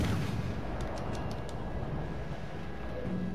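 Warship naval gunfire in the video game World of Warships: Legends, from the cruiser Edinburgh firing on a Belfast during a ranked match: a dense, loud, rumbling barrage with a few sharp crackling bursts early on, continuous throughout and with no voices.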